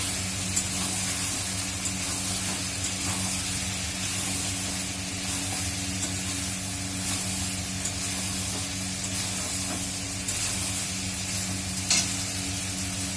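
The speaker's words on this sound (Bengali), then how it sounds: "বেশ মাংসটাও ভাজা ভাজা হয়ে গেছে" Meat frying in oil in a pan, browned and being stirred, gives a steady close sizzle with faint scraping from the stirring, continuous and even throughout with no voices.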